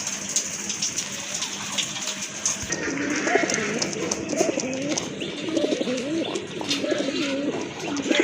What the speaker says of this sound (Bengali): এটাও কিন্তু আরেক জোড়া কবুতর এটাও আপনার দেশি কবুতর রাজগোল্লা কবুতর